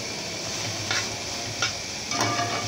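Egg being stirred into salted food frying in a pan, a soft steady sizzle with three brief scraping strokes of the spatula against the pan, quiet and close, no speech.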